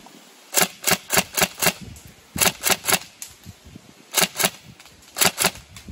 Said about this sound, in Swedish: Jag bara provar att köra någon skott.